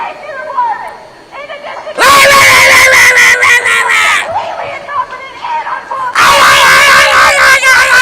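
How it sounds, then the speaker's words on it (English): A crowd of protesters screams and yells in loud, sustained bursts, with two long surges of shrill shouting separated by quieter chatter and individual voices. "Why do they always sound like screaming banshees?"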